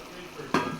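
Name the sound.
sautéing vegetables in a pan for fried rice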